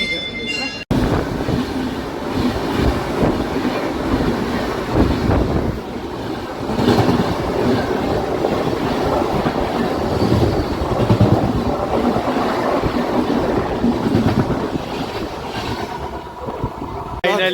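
Train passing on a journey from Madikeri toward Tiptur, a loud, continuous rumbling roar with rhythmic clickety-clack of wheels and wind buffeting the microphone, sustained close by for the whole stretch.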